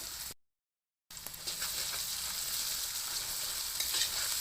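Boiled, pre-mashed potatoes are stirred and mixed in a hot pan for a potato and egg pitha, giving a soft sizzle with scraping stir strokes after a brief silent gap.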